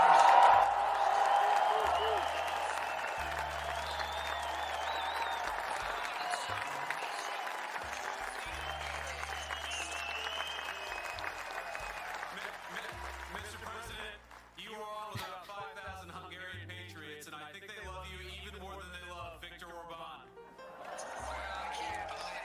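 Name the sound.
huge crowd of Hungarian supporters cheering and applauding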